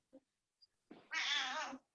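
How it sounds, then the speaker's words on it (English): A house cat wanders onto a yoga mat and lets out one clear, close meow after a few faint chirps and rustles in a quiet room. "There's somebody's cat."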